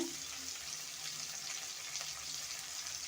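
Onion and chili fry in hot oil for chow mein, a continuous bright hiss of sizzling that stays even and close throughout with no talking.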